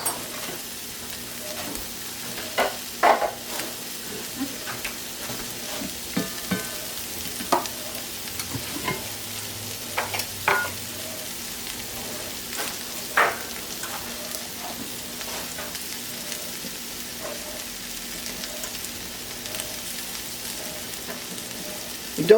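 Two tablespoons of butter melting over fairly low heat in a pan, a steady soft sizzle with occasional light scrapes and stirring clicks, close and moderately quiet, with no talking.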